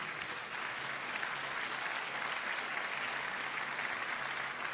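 Church congregation applauding, a steady dense wash of clapping that holds evenly for the whole stretch without pauses or voices.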